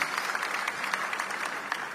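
A church congregation claps along a steady, moderately loud spread of applause, with individual hand claps standing out now and then and no talk over it.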